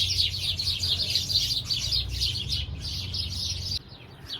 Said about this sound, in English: show you all those birds that just landed like 6 feet away from me on my porch rail